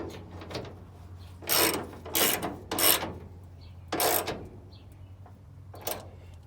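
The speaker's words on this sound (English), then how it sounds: "tighten that bolt back down" A ratchet snugs down a bolt on a Squarebody Chevrolet C10 hood brace, giving four or five loud bursts of rapid metallic clicking separated by short pauses, with no talking.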